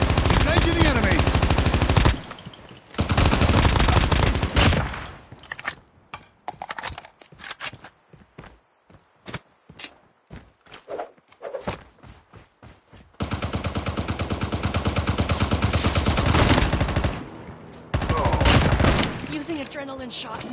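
Gunfire in Call of Duty Mobile battle royale, with loud sustained bursts of automatic fire alternating with sparser single shots and clatter, close and dense, broken by a few brief gaps.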